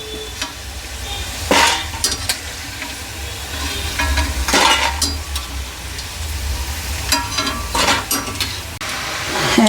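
Masala peanuts frying crisp and red in a pan, loud continuous sizzle broken by repeated scraping stirs of a spoon against the metal, no talk.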